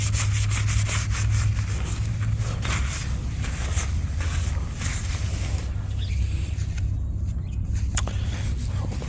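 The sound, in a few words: wiping a car's rust spots with a cloth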